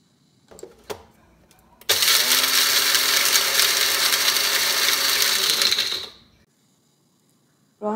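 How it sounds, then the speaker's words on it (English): An electric spice grinder coarsely grinding whole red chili, coriander, mustard, cumin and fenugreek seeds in a kitchen: a few clicks, then a loud, steady whirring rattle for about four seconds that winds down and stops, followed by another start. "I will roughly grind all the whole spices: red chili, coriander seeds, mustard seeds, cumin seeds and fenugreek seeds"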